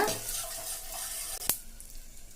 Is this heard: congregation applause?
no